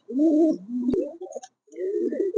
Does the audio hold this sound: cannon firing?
no